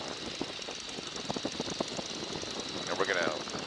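Engine of a Boeing N2S-3 Stearman biplane droning steadily in flight as power is eased back, a rough, pulsing roar heard from the cockpit, with a person talking over it.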